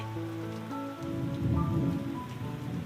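Steady rain falling and pattering on surfaces, a dense continuous hiss that swells slightly midway, with faint low rumbling underneath and no voices.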